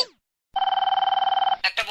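A telephone bell ringing in one rapid trilling burst of about a second, loud and close, with brief voice fragments just before and after.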